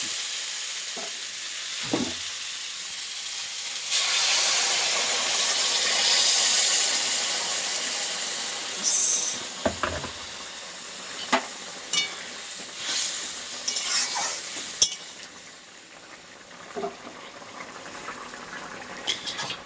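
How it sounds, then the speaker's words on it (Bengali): Water poured into a pan of well-fried potato curry sets off a sudden, louder hiss and sizzle that slowly settles, with scattered clicks and scrapes of a spoon against the pan, close and without talk. "এখন আমি জল দিয়ে দিচ্ছি"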